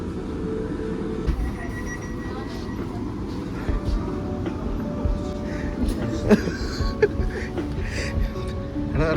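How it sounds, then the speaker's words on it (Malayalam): A train rumbles into a station in Britain with low mechanical roar, occasional clanks and a faint squeal, while people talk nearby. "അപ്പോൾ നമ്മുടെ ട്രെയിനിൻ്റെ വന്നിട്ടുണ്ട്"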